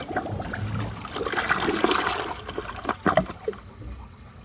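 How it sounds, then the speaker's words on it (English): A 2022 American Standard Homestead VorMax toilet flushes with a strong rushing swirl of water that gurgles and tapers into trickling refill, heard up close. "The bowl rinse on this toilet actually seems very good, which is not surprising since it uses the VorMax design."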